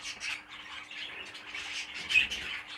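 Pet budgerigars squawk and chatter in a busy, continuous flurry of harsh calls, moderately close, with no one talking.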